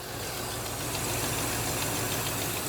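A car engine idles steadily after a vacuum advance leak was fixed, a smooth close rumble with a regular low pulse that holds even for the whole stretch, no voices.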